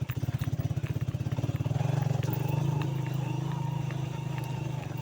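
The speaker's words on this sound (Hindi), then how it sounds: "बाइक स्किट हो रही है यहाँ पर क्योंकि छोटा पत्थर है।" Motorcycle puttering slowly over small loose stones on a dangerous mountain track at Tilla Jogian, a close, rapid engine thump with the tires slipping and crunching, steady throughout with a slight swell partway.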